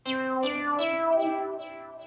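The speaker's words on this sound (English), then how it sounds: "The default sound is the classic synth and it sounds like this." A Skoog 2.0 instrument's default classic synth tone plays a short melody of bright, plucky notes, each with a sharp attack and ringing harmonic decay, alone and fairly close.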